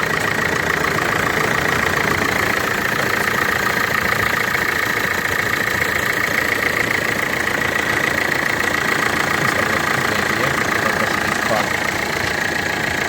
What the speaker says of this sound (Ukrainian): Мотор робить рівно, без лишних звуків, без вібрацій